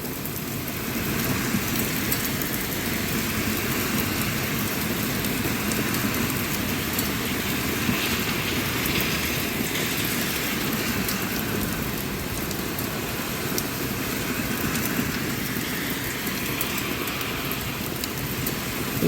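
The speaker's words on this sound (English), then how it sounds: "I think we're getting a little bit of heavier rain once again." Heavy rain pours down in a steady, dense roar that continues unbroken throughout, with no voices.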